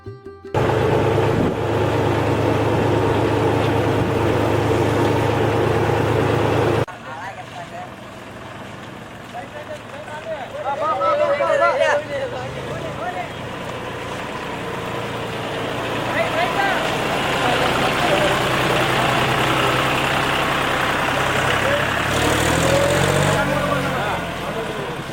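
A tractor engine drones with a steady low rumble, loud and close for the first seven seconds, then continues more faintly beneath voices and background noise. The tractor was driven in reverse from Kunnur in Haveri to the Ulavi temple.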